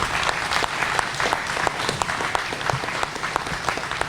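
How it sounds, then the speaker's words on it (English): Audience applauds Tucker Dehmlow, a West Fargo police patrol officer, at a radio station event: steady, moderately close clapping from a small crowd, continuous throughout with no voices over it. "Let's give one more round of applause to Tucker and congratulate him."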